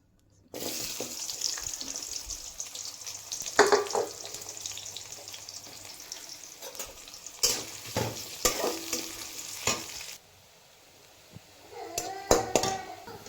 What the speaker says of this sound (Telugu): ఆయిల్ బాగా వేడెక్కిన తర్వాత దాంట్లోని ఉల్లిపాయలు వేసుకుందాం.